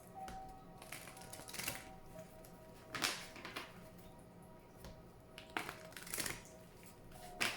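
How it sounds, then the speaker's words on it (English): Oracle cards being shuffled by hand during a reading, soft irregular riffling and tapping bursts that come in short clusters, close and quiet, with no talk over them. "Please think of your question as I shuffle the cards."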